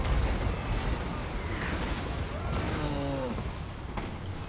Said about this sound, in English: Here come the rockets from the Hellstorm rocket battery.